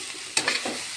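A spatula briefly stirring dried fish curry frying in a pan, two or three quick scraping strokes over a quiet background sizzle.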